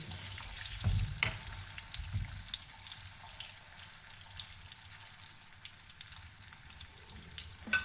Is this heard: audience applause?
no